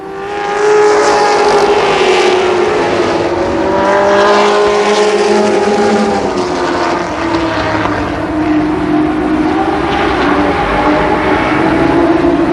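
Stock cars racing hard into turns three and four at Columbus Motor Speedway in 1991, a dense, loud blend of multiple engines droning and wavering in pitch, continuous throughout with no voices.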